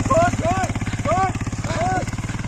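A motorcycle engine runs close and loud in snow, a steady pulsing throb that swells and dips while voices shout over it.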